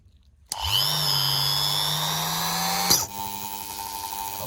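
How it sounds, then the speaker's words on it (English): A power drill bores a puncture into an 8-ply pickup truck tire: a sharp start, a steady high whine for about two and a half seconds, then a sudden stop leaving a quieter hum. "Let's drill one puncture here."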